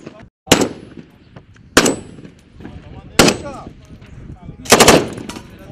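Bursts of gunfire from Kalashnikov rifles, sniper rifles and machine guns at an outdoor shooting training range, four loud separate volleys spaced about a second apart, each with a sharp crack and a ringing tail.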